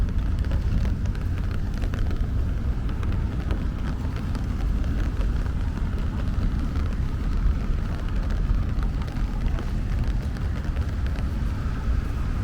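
Rain falling on a Brooklyn street in Bay Ridge, a dense, steady hiss with low rumbling noise running unbroken throughout, no voices.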